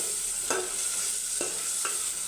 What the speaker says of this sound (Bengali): আলুগুলো সুন্দরভাবে আগে কষিয়ে নেব